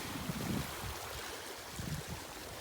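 Steady broadband rush of a stream flowing into a lake, continuous and fairly close, with faint low thumps now and then; no voices.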